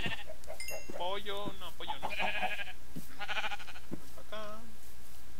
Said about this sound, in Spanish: Está sobrepoblado de ovejas, güey.